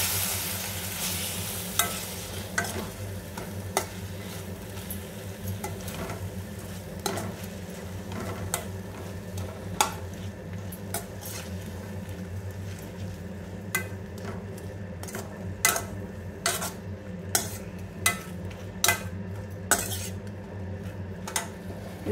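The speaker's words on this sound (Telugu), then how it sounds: "ఇప్పుడు వీటిని కూడా ఫ్రై చేసుకోవాలి" Coriander stems frying with softened tomatoes in a pan for chutney, a constant low sizzle broken by repeated sharp clinks and scrapes of a metal spoon stirring against the pan.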